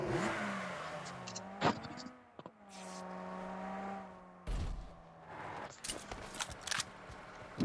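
A vehicle engine in PUBG Mobile revs and drones, its pitch rising, holding and falling, broken by sharp bursts of other game sounds and no talk.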